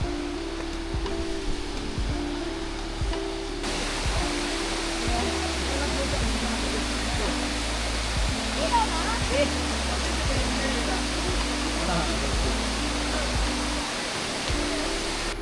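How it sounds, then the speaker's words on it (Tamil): A waterfall deep in a Kerala forest roars as a steady, broad wash of falling water from a distance, with a person talking and some rustling nearby. "ஃபைனலாக வாட்டர் ஃபால்ஸ்க்கு வந்துட்டோம்."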